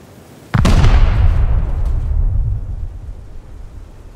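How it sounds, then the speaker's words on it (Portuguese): A large firework explodes in the survival game Rust with a sudden loud boom, and a long crackling, rumbling tail fades over several seconds. No one speaks. "olha os fogos"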